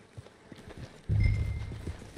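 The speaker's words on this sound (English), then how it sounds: "I don't know what that horse is doing there." Horse hooves clip-clop in Red Dead Redemption 2 in a quick, light rhythm, then a louder low rumble of movement rises nearby.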